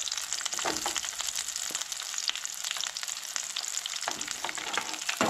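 Onion and green chillies fry for a Goan chana masala, giving a continuous bright crackling sizzle, close and even, with a few stirring scrapes and no talk.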